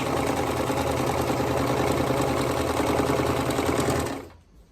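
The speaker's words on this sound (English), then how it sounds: "We're going to sew on 1/4 of an inch." A sewing machine runs steadily at speed while stitching a quarter-inch seam through quilting cotton, a dense even whir with rapid needle chatter, close and loud, stopping abruptly near the end.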